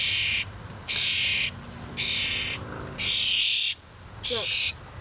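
A hungry wild baby bird in a backyard in Erie, Pennsylvania, gives five loud, high, sustained begging calls in a steady rhythm, close by, with quiet background noise between them.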